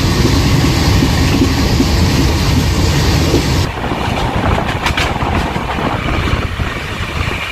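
The Howrah to Puri Shatabdi Express runs along the line with a loud, continuous rumble and rattling wheel noise that eases slightly partway through, with no talk.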